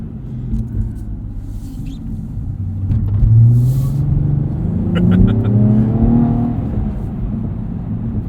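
A 2016 Cadillac ATS-V coupe with a six-speed manual accelerates at full throttle, its engine note rising steadily in pitch from inside the cabin, loud and close, with a brief shift partway through.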